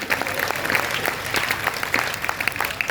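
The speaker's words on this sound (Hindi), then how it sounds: "एक बार जब मिल के तालियां बजाओ" Steady applause from a crowd at a Hindi poetry recital, many hands clapping in a dense continuous patter that holds at an even level throughout.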